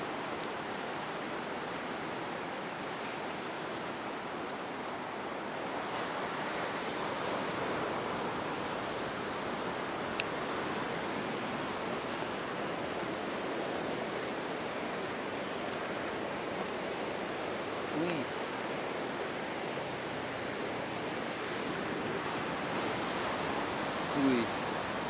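Surf rolling onto Melasti beach in Bali, a steady broadband wash of breaking waves that holds at an even loudness throughout, with no clear gaps between sets.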